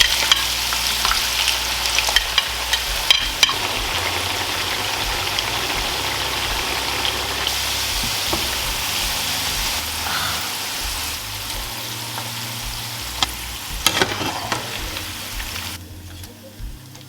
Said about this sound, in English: I'm gonna go high heat. So now I'm ready to deep fry.